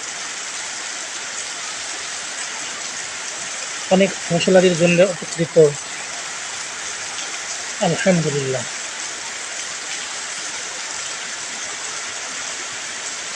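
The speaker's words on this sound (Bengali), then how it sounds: "আল্লাহ তাআলার রহমতের বৃষ্টি কে না চায়, তার না ভালো লাগে।" Steady rain falls across the whole stretch in Bahadurpur union, Bheramara, as an even broadband hiss, with two short bursts of someone talking over it.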